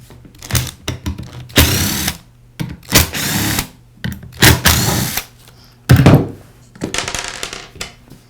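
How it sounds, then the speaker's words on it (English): A power driver backs out the three screws holding the pad on a Porter Cable sander, giving several short loud whirring bursts separated by clicks and handling knocks, close up with no talk. "I'll begin by removing the 3 screws that secure the sander pad to the sander."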